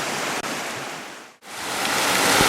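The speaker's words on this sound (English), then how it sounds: "we made it down to the waterfall that we saw" Waterfall tumbling into a forest stream pool, a dense, continuous roaring rush of water, loud and close, briefly dipping before swelling back up, with no voices.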